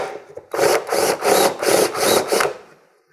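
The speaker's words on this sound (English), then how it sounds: "So I'm going to take the unibit and bore out these." A step drill bit bores holes through a race apron for a 1965–1966 Mustang, sounding as five even, loud grinding bursts of about a third of a second each, close up and with no talking.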